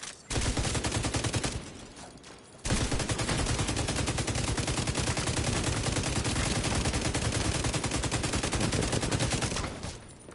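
Rapid automatic gunfire from The Division 2 fills the clip in dense, loud bursts, with a brief lull near the two-second mark before the firing resumes and continues almost to the end.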